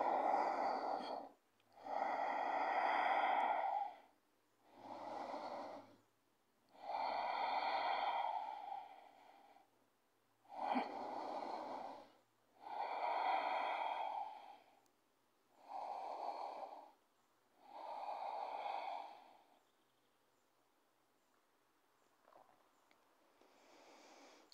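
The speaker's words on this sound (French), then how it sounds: "Et inspirez dans la posture et expirez." Slow, deep yoga breathing, heard as about eight long, audible inhales and exhales close to the microphone, evenly paced with short quiet gaps, then silence at the end.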